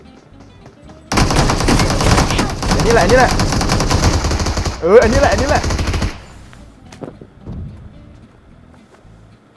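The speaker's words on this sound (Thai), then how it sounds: "เสียงปืนเนี่ยใช่ละ" Loud rapid automatic gunfire in PUBG Mobile rattles for several seconds in sustained bursts while voices talk excitedly over it, then fades.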